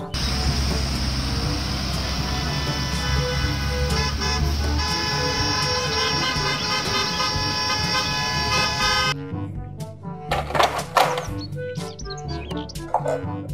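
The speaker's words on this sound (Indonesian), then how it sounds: "Mobil bus sekolah." A school bus gives a long, steady, loud toot over its running engine, with bird chirps scattered through it. After the horn stops, broken bursts of vehicle noise follow.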